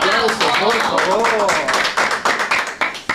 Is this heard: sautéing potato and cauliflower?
no